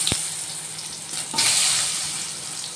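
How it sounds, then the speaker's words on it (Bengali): Long-cut sliced potato is dropped into hot oil over tempered spices, starting an even hiss of frying that swells after a clatter and keeps sizzling steadily, close and fairly loud, with no one talking. "এবার আমি ওই তেলের মধ্যে দিয়ে দিচ্ছি লম্বা করে কেটে রাখা আলু"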